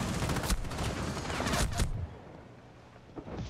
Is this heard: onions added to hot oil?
no